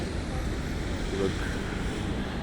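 Steady roadway rumble of city buses arriving at the Veleslavín metro station bus terminal, a continuous engine and traffic wash with no distinct pass-by standing out.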